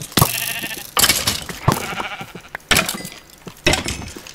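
Minecraft sheep bleat in a video game, five loud, close bleats spaced about a second apart with sharp onsets, each followed by hits as the sheep are attacked.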